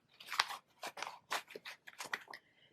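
Paper cash notes are folded for stuffing into a wallet, producing a handful of close, soft crinkling and creasing rustles in short uneven bursts that fade out at the end.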